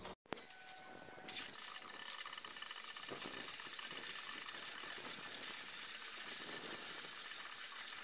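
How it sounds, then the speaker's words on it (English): Antifreeze pours into the cooling system of a 1974 Ford F250, a faint continuous liquid trickle and gurgle with a few small clinks at the start, heard alone at low level. "Adding the antifreeze back in."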